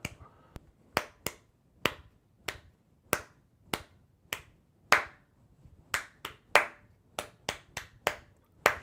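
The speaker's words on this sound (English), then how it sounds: "Now sometimes it can help to kind of clap that" Sharp hand claps or snaps tap out a rhythm in an irregular pattern of about twenty crisp, close strikes, alone with no talk.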